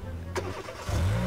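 An old diesel Mercedes car engine in Garry's Mod cranks and catches, a short sharp burst giving way to a low rumbling idle that swells toward the end, with faint talk beneath.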